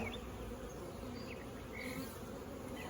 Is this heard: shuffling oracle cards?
no